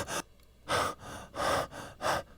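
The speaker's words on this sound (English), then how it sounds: "So do I have any breathing here? Breath heavy." Heavy breathing sound effect: four loud, close breaths in a steady rhythm, each a strong airy rush separated by brief quiet gaps, with no voices.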